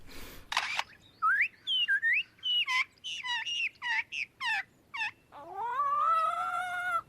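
A mimicking bird, likely a lyrebird or similar songbird, runs through a rapid string of varied imitated calls: whistled slurs, sharp chirps and clicks in quick separate bursts, ending in a long rising harmonic wail, close and clear with no talk.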